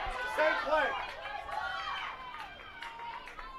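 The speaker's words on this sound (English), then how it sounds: "can hear the crowd offering the advice of same play" Spectators at a girls' lacrosse championship game call out and shout over one another, a steady mid-distance babble of overlapping voices that swells early and stays busy throughout.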